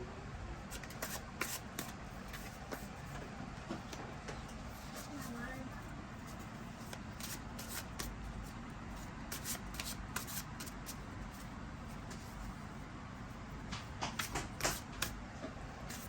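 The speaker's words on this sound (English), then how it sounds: "let's go ahead and pull some tarot cards" A deck of tarot cards is shuffled in quick, papery bursts with riffling flutters, a soft, steady close shuffle with a louder flurry near the end and faint speech-like sounds beneath.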